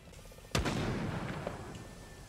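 A sharp, loud gunshot from the video game Realm Royale rings out once and decays into a lingering echo, with fainter background game noise before and after.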